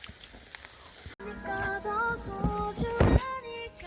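Beef grilling over a red-hot campfire on a cold, cloudy night, giving a steady crackling sizzle with tonal hissing running through it for several seconds.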